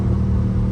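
A Dodge Charger Scat Pack engine rumbles deep and loud from inside the car during hard driving, a steady throaty drone with no talk.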